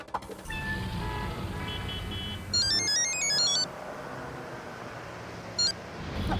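A telephone rings in an Indian sitcom scene. Short bursts of electronic ring tones rise over a steady background hum, with a second brief ring near the end.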